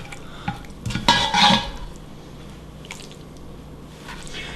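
Baked apple tart filling is scraped out of a tart pan, a few short scraping and squishing sounds clustered near the start, close and soft, then quiet.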